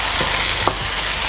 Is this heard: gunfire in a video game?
no